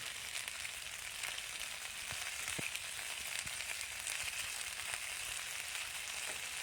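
Vegetables fry over a high flame in a home kitchen pan, a dense continuous sizzle that holds steady and loud throughout with occasional sharp crackles and pops, and no voices.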